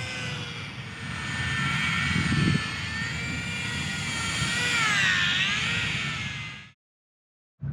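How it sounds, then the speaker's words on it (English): A small Eachine Mini P-47 RC warbird plane with a 1S brushed motor flies nearby, giving a steady high-pitched electric whine that rises and falls in pitch as it maneuvers, then cuts off abruptly into silence. "this video we're checking out the Eachine P-47, another 1S brushed motor airplane"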